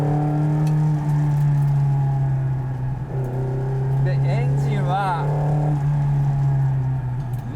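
The 2.4-litre naturally aspirated FJ24 engine of a Nissan 240RS Group B rally car, based on the Silvia, holds a steady, loud droning note throughout, with someone talking over it.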